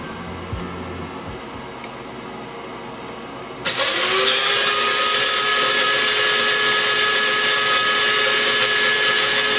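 An electric coffee grinder grinding coffee beans starts abruptly after a few quiet seconds and runs loud and steady with a high motor whine, close up and alone.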